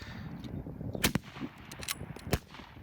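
High power rifle fire at a target match, with two sharp cracks about a second apart over a rough ambient outdoor background, a fainter distant report between them, and no one talking.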